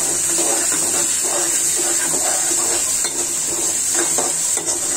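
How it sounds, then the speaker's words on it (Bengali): Whole garam masala, black pepper and cardamom fry in a pan with a loud, dense sizzle and a steady hiss. Soft stirring scrapes sit underneath it throughout. "নেড়ে চেড়ে কষিয়ে নিব ভালো করে"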